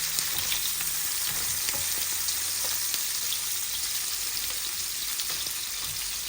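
Fish rubbed with salt and turmeric fries in plenty of hot oil, a steady dense sizzle with crackling pops close by, with no voices over it.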